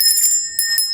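A school bell rings out in short bright metallic bursts, two or three quick rings close by.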